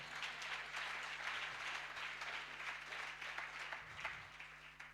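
A church congregation at an apostolic gathering claps and cheers in steady applause, a broad wash of many hands with a low hum underneath, continuing evenly without a break.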